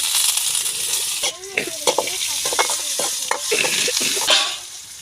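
Steady crackling sizzle of mustard seeds, asafoetida, cumin and pepper frying in hot oil, with a few scattered pops and stirring scrapes throughout.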